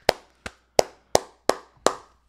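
Six sharp hand claps at an even, steady pace, close and crisp with brief silence between each.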